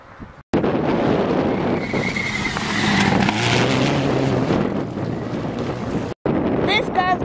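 A rally car on a stage roars past, its engine note rising and swelling loudly before fading, amid strong wind buffeting on the microphone, with people talking briefly near the end.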